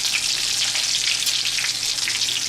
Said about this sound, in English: Hear that little sizzle?